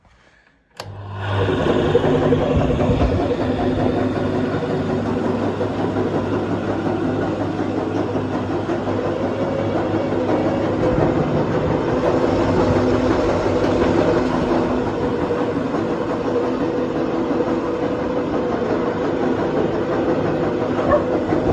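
An electric grain winnowing machine driven by a small motor taken from a concrete mixer starts abruptly with a thump, then runs with a loud, steady mechanical rumble and rattle that continues to the end.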